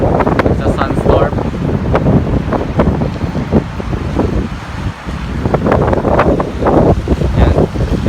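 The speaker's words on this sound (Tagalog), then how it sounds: "Ayan, yung sandstorm dito sinasamahan ng hangin at konting patak ng ulan, ambon." A sandstorm in Riyadh, Saudi Arabia, blows hard with light rain, a loud continuous rush of wind buffeting the microphone in gusts that swell and ease throughout.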